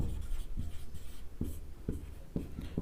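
Chalk or marker scratches out a bond length on a classroom board in short, rhythmic strokes and taps, close and moderately loud, with no talking.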